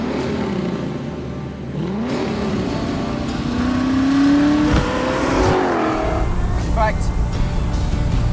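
A 1967 Shelby Mustang GT500 'Eleanor' rumbles and revs as it drives, its engine note rising and falling beneath someone talking over it.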